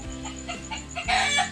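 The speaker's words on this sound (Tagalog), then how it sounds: "may nagputak ng manok" A hen clucks in a few short, close bursts, ending in a louder squawking outburst, heard at night near the shore in the Philippines.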